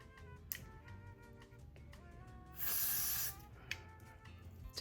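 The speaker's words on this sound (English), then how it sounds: "Spray the hairline. This is the wig's hairline." A single sustained hiss of aerosol hair spray on a wig's hairline lasts under a second, set amid quiet tapping and faint background tones.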